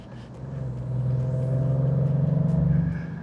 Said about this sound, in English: There's a gruffness to the engine that you get at all times